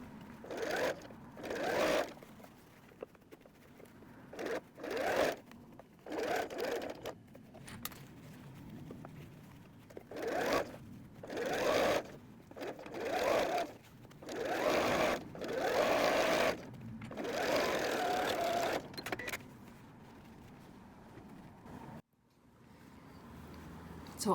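A sewing machine stitches fabric for a Milla messenger bag in many short, start-stop bursts of fast whirring, steady and close, while the fabric is eased through between runs.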